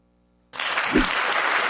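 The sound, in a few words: applause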